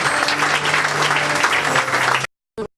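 A church congregation applauds God, steady loud clapping filling the room for about two seconds before an abrupt cut and a brief final burst.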